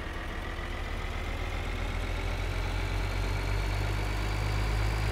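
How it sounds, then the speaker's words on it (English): A tractor engine in the Farming Simulator game idles steadily in a loud, continuous low rumble with a faint rising drone, and no other sounds. "Whenever my tractor feels like moving."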